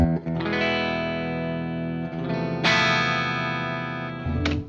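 An electric guitar plays sustained, chiming chords through a Vox AC30 amplifier alone, each ringing out with a warm, slightly driven, shimmering tone before the next is struck.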